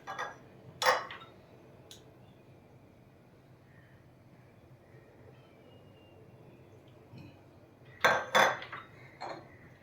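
Peas stirred in white oil in a pan, with a few sharp metallic scrapes and clinks of a spoon against the pan, separated by a quiet gap.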